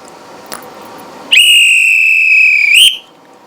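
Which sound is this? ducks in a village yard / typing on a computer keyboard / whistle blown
whistle blown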